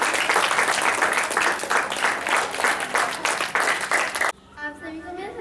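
An audience gathered at a tuition centre event breaks into loud, dense applause that fills the room for about four seconds, then stops abruptly and a voice starts talking.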